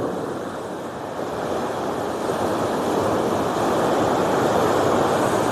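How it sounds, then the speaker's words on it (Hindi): The Pinder River at Tharali runs in flood, high above the danger mark, its surging water making a loud, continuous broadband roar that swells slightly and never breaks. "पानी का फ्लो देखो, क्या छलांगे मार रहा है ऊपर"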